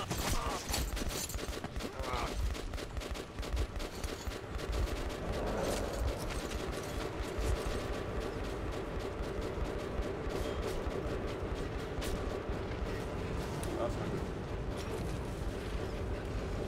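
Sustained in-game gunfire from enemies shooting at the player in Metro 2033 Redux, a dense, continuous barrage of shots and impacts mixed with mechanical clatter throughout.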